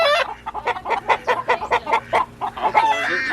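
Ducks being herded into a new poultry crate quack in a rapid series of about a dozen loud, close, rhythmic calls that end in a more drawn-out squawk.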